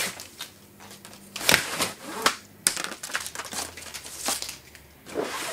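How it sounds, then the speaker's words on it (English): Plastic binding being pulled off the box of a Yamaha R-N2000A network receiver, giving close crinkling, snapping and rustling in uneven bursts. "Process of first removing the plastic binding"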